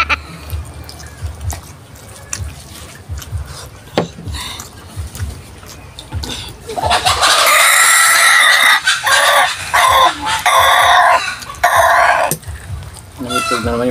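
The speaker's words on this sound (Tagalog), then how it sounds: "Nangitog na naman yung manok natin." A backyard chicken clucks and crows nearby in a home kitchen setting, loud bursts in the second half over a low background hum, with a quieter stretch before it.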